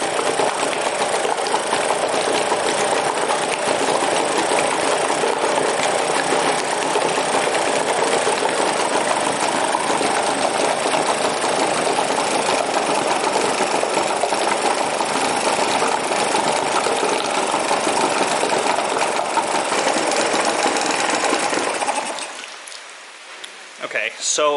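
Drowned outboard motor running after repair with WD-40 burning off, a loud, close, continuous rough engine drone lasting about twenty seconds before it cuts out and fades near the end.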